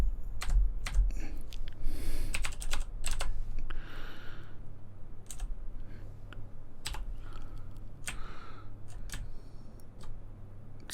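Typing on a computer keyboard that is playing up, a run of sharp clicks and clatters at uneven pace over a steady low hum, with no talk.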